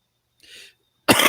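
A single sudden cough rings out loud and close after a brief faint breathy noise, in an otherwise quiet setting.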